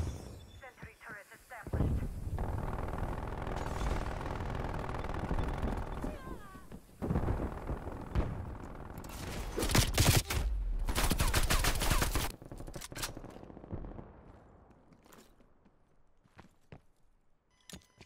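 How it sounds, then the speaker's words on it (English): An automated sentry turret fires in a video game, with bursts of rapid gunfire, loud and close, mixed with game effects and other shots, then fading toward quiet. "Sentry turret"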